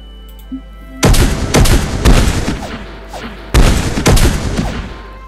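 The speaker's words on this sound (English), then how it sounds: "Now, we're going to bombard these piecemeal, because I don't want to wipe the, the population out." Planetary bombardment in Master of Orion: two volleys of loud, close explosive blasts, each a rapid cluster of several booming impacts with crackling tails, separated by a brief lull over a low steady hum.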